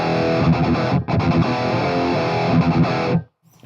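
Electric guitar played through an aggressive metal distortion pedal, loud and sustained with a razor-edged, saturated tone, a brief dip near the start, then cutting off abruptly into silence.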